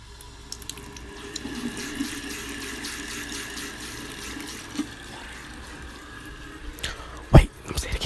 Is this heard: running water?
yes